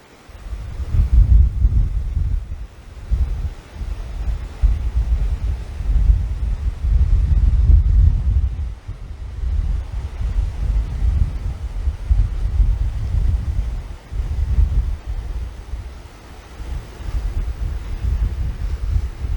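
Strong wind buffets the microphone at a coastal lookout, a loud, steady low roar with gusty surges and no voices.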